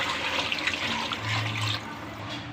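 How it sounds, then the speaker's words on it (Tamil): Water pours into a cooking pot holding chicken and rice, a close, steady splashing rush for about two seconds that settles into a lighter trickle. "இதிலே நான் இப்போ ஒரு டம்ளர் ஒரு பாத்திரம் அளவு தண்ணி மட்டும் முதல்ல ஊற்றுறேன்."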